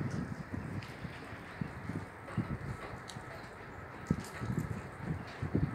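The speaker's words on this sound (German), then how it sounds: "Sehr windig heute." Strong wind gusting outdoors on a balcony, a steady broadband roar with low rumbling buffets against the microphone, rising in irregular gusts throughout with occasional faint rustles.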